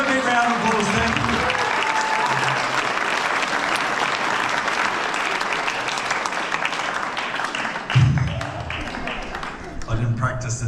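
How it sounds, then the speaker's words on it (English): Loud, sustained applause from a theatre audience at a poetry performance after a beer-sculling stunt, dense clapping filling most of the stretch, with crowd voices and a brief burst of talk near the end. "Give them a big round of applause then"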